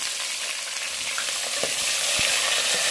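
Onions fry in hot oil left over from cooking taro root, a loud continuous sizzling hiss with a few soft stirring knocks, growing slightly stronger toward the end, no voices.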